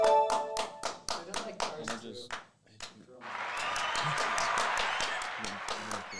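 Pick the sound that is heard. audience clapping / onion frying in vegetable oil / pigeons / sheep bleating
audience clapping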